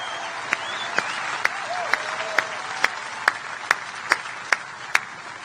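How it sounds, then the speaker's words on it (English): A large outdoor rally crowd applauds and cheers in a steady wash of noise, punctuated by sharp, evenly spaced loud claps roughly every half second, with faint calls in the crowd. "Let's give a round of applause to David."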